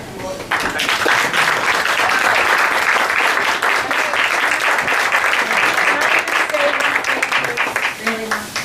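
Sustained, dense applause from an audience in Boston after Tom DeWeese's speech on Agenda 21/30, loud and steady for several seconds with voices faintly underneath.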